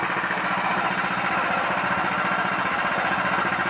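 The engine of a fuel-efficient 200 kg capacity mixer runs during a test, a close, loud, steady chugging idle with an even rapid pulse and no voices.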